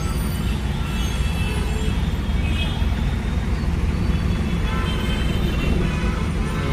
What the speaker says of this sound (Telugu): ఎంత ట్రాఫిక్ ఉంది చూడు. మొత్తం జామ్. ఇంత పెద్ద రోడ్ అయినా ట్రాఫికే.